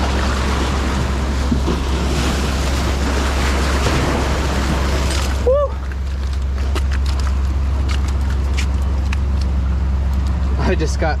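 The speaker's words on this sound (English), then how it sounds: "A wave came and hit me in the back" Ocean surf washes loudly and steadily against a rocky shore while fishing in Long Beach, California, with a strong rumble and wind noise and people talking over it.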